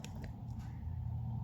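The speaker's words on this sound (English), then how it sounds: "Just use my scissors to do a little slit" Scissors snip a small slit in paper during a craft booklet project, a few soft close cuts at the start over a low steady background hum.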